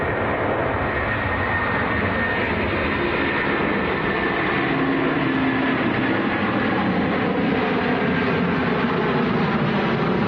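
Virgin Airbus A330 climbing out of Manchester Airport bound for New York JFK, a loud continuous jet engine roar that stays steady and close throughout, with no talking.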